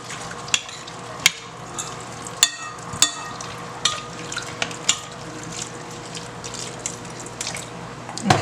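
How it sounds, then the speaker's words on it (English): Water is poured into a Bajan fishcake mixture and stirred, giving a soft wet trickle and swishing under steady background hiss, punctuated by sharp clinks and taps against the bowl. "I'm going to add a little water to it."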